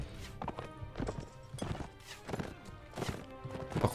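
Horse hooves from Mount and Blade Warband gameplay clop in an uneven, close rhythm, with a horse neighing among the steps.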